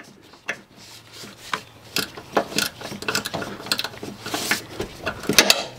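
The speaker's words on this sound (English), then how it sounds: "I bottomed out this ratchet against this engine mount" Socket ratchet clicking and grinding as it bottoms out against an engine mount on a Ford 2.0 engine during water pump removal, with loud close rapid pawl clicks and metallic rubbing in irregular bursts.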